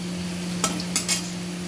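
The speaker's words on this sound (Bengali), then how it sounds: "শুকনো লঙ্কা আর পাঁচফোড়ন দিয়ে দিয়েছি নাড়াচাড়া করবো" Dry chillies and panch phoron fry in a pan for khichuri, with a steady faint sizzle under a few short scrapes and clinks of a spatula stirring against the metal.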